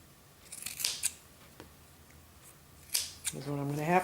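A few soft snips of hand scissors cutting the bottom layer of fur fabric close by, sparse and separated by quiet gaps, followed by a brief whirring tone at the end.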